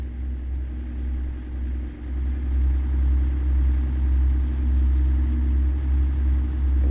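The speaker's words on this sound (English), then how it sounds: "I wonder where they recorded the sound for this engine." A truck engine idles and runs in the American Truck Simulator game, a steady low rumbling drone with an even, close mechanical hum that swells slightly after the first couple of seconds and holds constant without any voices.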